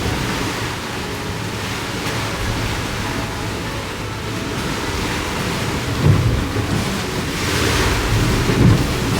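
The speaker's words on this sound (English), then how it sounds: "we're heading literally right up the waves" Sea waves surge around a sailing boat heading into rough water under an off-forecast sky, a continuous heavy wash with wind buffeting the microphone and louder swells breaking near the middle and end.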